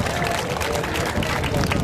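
A dense, steady wash of audience applause at an Aliya Foundation notebook distribution program for 5,000 children, with crowd murmur mixed in, continuing unbroken throughout.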